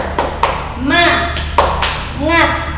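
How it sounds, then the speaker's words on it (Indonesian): A sixth-grade class of children performs a rhythmic cheer clap, sharp patterned claps mixed with their voices chanting together in a classroom, loud and close. "kita mulai dengan tepuk semangat dulu ya anak-anak ya"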